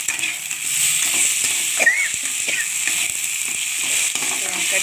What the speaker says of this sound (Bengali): দেখুন আলুটা ভালোভাবে আমি ভেজে নেব